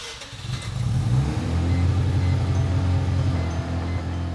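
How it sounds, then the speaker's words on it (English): A Mazda RX7 rotary engine cranks and catches, then settles into an uneven, lumpy idle with a wavering burble, close and fairly loud. "It started right up, but the idle was definitely not normal."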